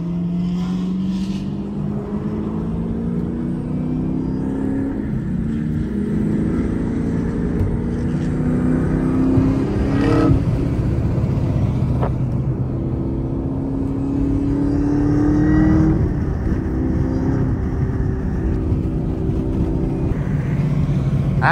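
A cammed Corvette Z06 accelerates up a highway entrance ramp from inside the car, its engine note droning and rising steadily through the gears with a shift around the midpoint, loud and continuous with road roar beneath.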